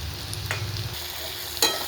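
Chopped tomato goes into onions frying in oil, a soft continuous sizzle with a low hum, punctuated by a couple of brief clinks and scrapes of a utensil against the pan.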